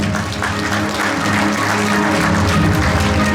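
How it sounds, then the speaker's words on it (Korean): Steady, dense audience applause fills a volunteer group's founding ceremony, held at an event that also hosts a senior model contest, with a full, even roar of clapping sustained throughout and no speech on top. "큰 박수 해주시면 감사하겠습니다"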